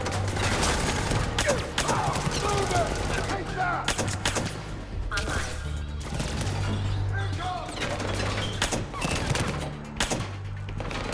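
Rapid pistol shots from Mass Effect 3, a dense run of sharp cracks in uneven rhythm over continuous game music and ambience, loud and close throughout, with occasional talk mixed in.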